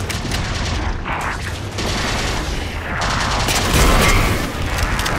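Battle rifle fire in Halo 4's Spartan Ops mode, a dense run of game gunshots and booms that swells louder near the end amid a busy combat soundscape.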